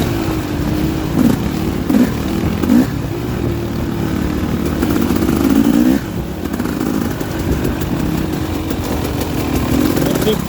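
A motorcycle engine on a poker run holds a steady drone in second gear, with rising and falling surges, loud and close, under wind noise.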